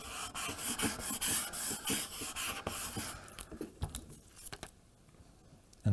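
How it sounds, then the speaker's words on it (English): Scraper tool rubbed firmly over cut vinyl on transfer tape, quick close scratchy strokes in a steady rhythm that thin into sparser scrapes and then fall quiet before a final bump. "I'm going to use my scraper tool just to make sure we've got all of the design done"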